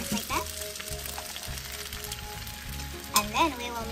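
Samyang noodles sizzle and fry in a hot pan, a steady crackling hiss that stays up close throughout, with a brief louder clatter near the end.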